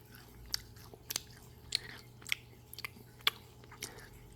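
Close, crisp bites and crunches come from the shell of a vanilla hamburger-shaped ice cream, about eight sharp snaps spaced irregularly over soft chewing, with no talking.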